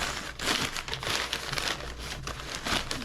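Paper is crumpled and packed around fruit being ripened at home, giving continuous close crinkling and rustling in uneven bursts, with no talking.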